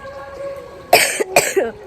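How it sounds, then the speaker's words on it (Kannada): Two sharp coughs close by, separated by a short pause, following a quiet stretch of low background sound. "ಕೆಮ್ಮಿದೆ"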